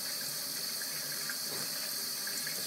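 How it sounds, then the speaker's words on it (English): Steady stream of tap water pouring into a sink, a soft continuous hiss that stays even throughout with no voices over it. "you can see that it's just standard water flowing"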